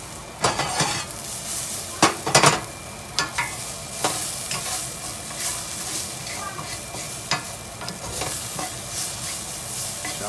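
Shallots sauté in a pan, turning golden brown, with a steady low sizzle beneath repeated sharp scraping and clinking strokes from frequent stirring, the loudest bursts near the start.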